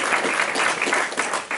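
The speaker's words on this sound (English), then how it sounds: "Round of applause for Hudson." Short burst of audience applause at a Green New Deal discussion event, dense and steady clapping filling the room for under two seconds with no voices over it.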